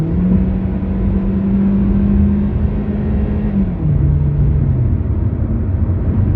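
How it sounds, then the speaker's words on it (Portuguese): A Kia Carens accelerating from inside the cabin, a steady low engine drone with a rising then shifting hum, loud and continuous with road rumble beneath. "vou dar uma acelerada aqui para vocês verem como é que é o comportamento"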